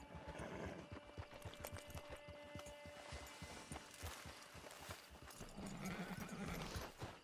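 A horse in the Red Dead Redemption 2 video game clip-clops along in a quick run of hoof beats, then gives a whinny near the end, the in-game sounds fairly quiet and close.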